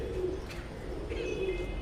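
Pigeons kept as pets coo softly nearby in two low, short, throaty phrases over a quiet background.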